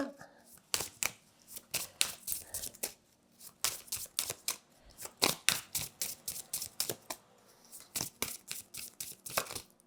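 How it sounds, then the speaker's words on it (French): Tarot cards are drawn one after another from a deck, giving a run of crisp, close slaps and rustles in an irregular rhythm, with short quiet gaps between the card sounds. "Je vais sortir une deuxième carte."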